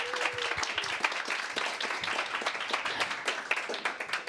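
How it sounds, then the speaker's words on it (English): An audience applauds steadily, many hands clapping in a dense, sustained patter that holds at an even level throughout. "a big round of applause."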